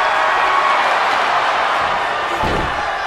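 Steady, loud arena crowd roar from a WWE 2K19 wrestling game match, a continuous wash of cheering throughout, with a low thud of a slam near the end.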